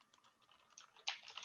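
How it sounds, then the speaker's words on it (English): Quiet, uneven keystrokes patter on a new computer keyboard during live coding, a soft run of clicks with a slightly firmer burst near the end. "I have a new keyboard. So it's not the, it's like my typing is not the best right now."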